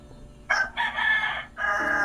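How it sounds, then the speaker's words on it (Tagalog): A rooster crows in a rural Bicol setting, two loud, close calls, the first starting with a short burst and then a long drawn-out note, the second clear and sustained, with no other sounds over them. "tumitilak na yung manok"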